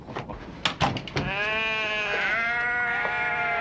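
A lamb bleats loudly and close by in one long, wavering cry after a few short knocks, the call sustained and trembling to the end.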